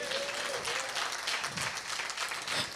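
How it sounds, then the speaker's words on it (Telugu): A church congregation bursts into sustained applause during a sermon, many hands clapping in a dense, even wash of sound from start to finish with no talking. "చప్పట్లు కూడా దేవుని మహిమపరచండి."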